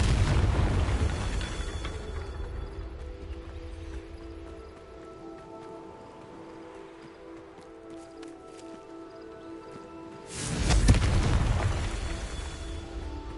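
A Confringo fire spell explodes in Hogwarts Legacy, a loud booming blast that fades into a low rumble before a second heavy burst hits near the end, no talking.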